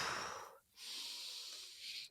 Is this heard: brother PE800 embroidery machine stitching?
no